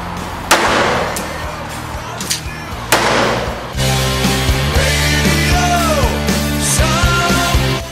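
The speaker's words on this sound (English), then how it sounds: "Here is a video of the gun being fired by Nick" A handgun fires blanks at a firing range. Two loud, sharp reports ring out a couple of seconds apart, followed by a sustained tonal background.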